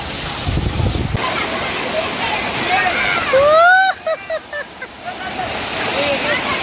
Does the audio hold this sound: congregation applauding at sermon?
no